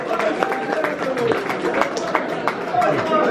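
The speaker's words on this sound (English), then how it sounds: "Round of applause for Fast Eddie" Scattered clapping from a small audience at a Q&A with members of The View at Beat Generator in Dundee, with sharp claps mixed into a steady murmur of talk.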